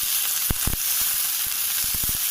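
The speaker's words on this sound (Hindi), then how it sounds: "तो सरसों का तेल हमने लिया है, तेल पक जाए जब भी डालें, और इन्हें हम थोड़े तेल में तलेंगे" Paneer pieces frying in mustard oil in a kadai give a steady, close hiss of sizzling, broken by sharp pops and crackles scattered through it.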